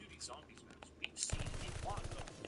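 Gunfire from a gun in Call of Duty: Vanguard, a quick, rapid automatic burst in the second half, moderately loud and close, after a quieter opening with small clicks.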